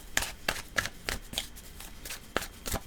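Tarot cards shuffled by hand, a series of about nine quick crisp riffling snaps spaced unevenly, close and clear with no talking.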